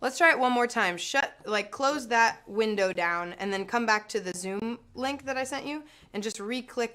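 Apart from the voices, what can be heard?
No distinct noise like a dog, phone or traffic.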